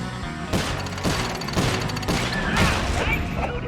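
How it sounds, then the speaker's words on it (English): Rapid bursts of gunfire in the Sly Cooper video game, several loud sharp shots in quick succession over a busy game soundtrack. "Now that's what I call shooting."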